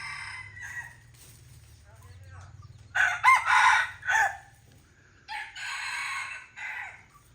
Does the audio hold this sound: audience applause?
no